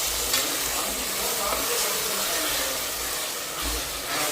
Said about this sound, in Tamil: தக்காளி போட்டுட்டு நல்லா வதக்கி விட்டுருணும்